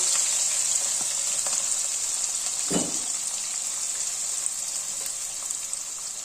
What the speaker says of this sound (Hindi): अब इसमें 2 दरमियाने साइज के प्याज हैं, ये डाल देंगे, उन्हें गोल्डन करेंगे